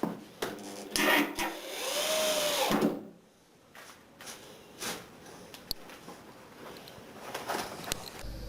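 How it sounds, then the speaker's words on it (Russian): Self-tapping screws driven tightly into OSB floor boards laid on joists, a power driver whirring in bursts with knocks and scrapes of wood between runs, close by and with no talk. "Саморезы вкручиваются очень туго."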